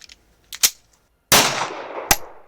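Taurus Curve pistol fired at a range, several sharp, loud gunshots: two quick pops, then a big booming report with a long decaying tail, and another crisp crack near the end.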